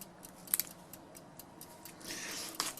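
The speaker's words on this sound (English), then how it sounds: "You just rip the corner off." A plastic MRE ration pouch has its notched corner torn off: a few soft crackles and ticks, then a brief rising rip of tearing packaging, close and fairly quiet with no speech.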